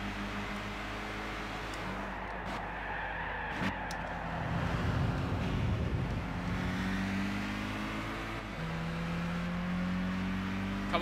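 Racing car engines in Gran Turismo 6 hold steady high revs with shifting pitch as several cars run close together, a continuous loud drone that swells mid-race.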